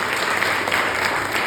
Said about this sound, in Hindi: में चाहूंगा जोरदार तालियां उनके लिए भी।